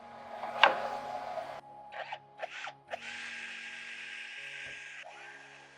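A power drill bores screw holes in a walnut sheet, with a short whine, a few brief bursts, then a sustained run that winds down, close and fairly quiet in a workshop.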